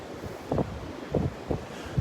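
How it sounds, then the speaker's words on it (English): Wind on a Gulf beach at Delnor-Wiggins buffets the microphone in short, irregular gusts over a low, steady rumble. "I wanted to have the wind at my back here."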